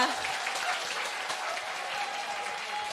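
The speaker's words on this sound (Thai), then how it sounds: "ขอเสียงปรบมือให้สีน้ำเงินนะคะ" Applause for the blue team at a team presentation event rises as a steady, even wash of many hands clapping, sustained for the full stretch at moderate volume.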